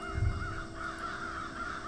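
Crow cawing in the video game Grim Legends 3, a steady harsh call held across the short stretch against a faint ambient game backdrop, with no talk over it.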